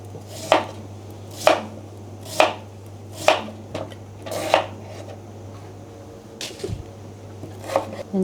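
A kitchen knife chops a white turnip in half on a cutting board while soup vegetables are prepared: about eight sharp, evenly spaced chops, close and clear, over a low steady hum.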